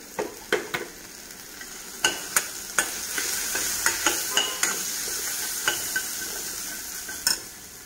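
Ginger-garlic paste frying in oil for a chicken and bottle gourd curry, a constant sizzle under a spoon scraping and clinking against the pan in a dozen irregular strokes.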